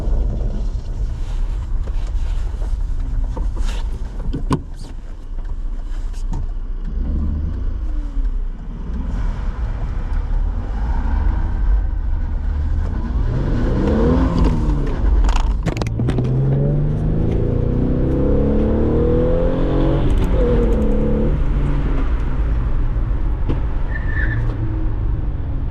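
A car fitted with a Coolerworx short shifter accelerates hard, engine droning loud and steady throughout with rising revs and gear changes, heavy wind rumble over the microphone, no talk.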